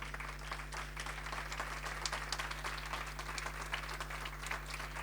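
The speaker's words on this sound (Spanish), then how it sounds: "la doctora Cariaga, para quien pedimos nuevamente un fuerte aplauso" Sustained audience applause at a university honorary doctorate ceremony, a steady dense wash of many hands clapping that carries evenly through the whole stretch at moderate distance, with no voices over it.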